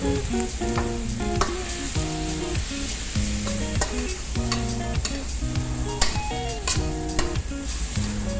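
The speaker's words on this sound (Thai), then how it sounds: "คั่วให้นกกับเครื่องแกงเขากันพี่น้อง" Bird meat stir-fried with curry paste sizzles steadily in a pan, a spatula scraping and clinking now and then as music plays underneath, with no talking.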